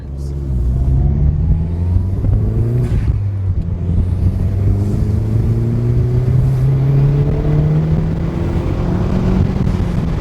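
A first-generation Mazdaspeed 3 with a front-mount intercooler accelerates hard at full throttle in third gear, its loud engine climbing steadily in pitch over several seconds.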